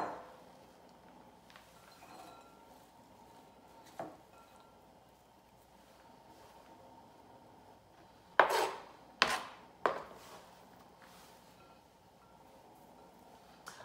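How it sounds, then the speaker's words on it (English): Sweet potato leaves are chopped for a Congolese matembele dish, heard as a few sharp knife strikes on a board, one near the start and a quick cluster of three later, over a quiet kitchen background. "Here, the sweet potato leaves is chopped."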